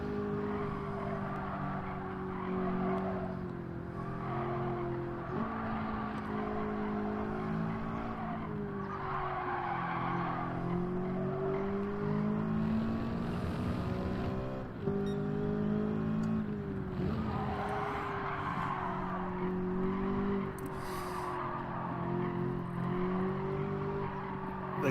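A race car in Gran Turismo 7 drives continuously, its engine droning and shifting pitch through gears while tires squeal and skid through corners, loud and steady with no speech.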